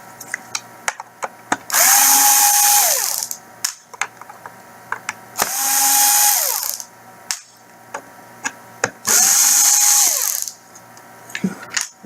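Power drill spinning out three screws that hold a CPU board in a motor unit, three loud whirring bursts of about a second and a half each, separated by pauses with small clicks and handling sounds.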